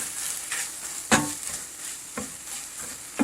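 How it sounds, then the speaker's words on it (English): Beef from a prepper pantry meal cooks in a pan with a steady soft sizzle, punctuated by a few sharp scraping stirs of a utensil against the pan. "It's cooking good now."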